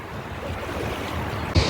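Steady wind gusting over the microphone, a broad rushing roar throughout with a sharper buffeting burst near the end.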